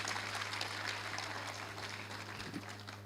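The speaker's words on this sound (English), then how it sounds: "We can give the national coordinator for KPIL program a hearty clap." Audience applause at an education and leadership congress in Kakuma, a broad, steady wash of clapping over a low hum, moderately distant and fairly faint throughout.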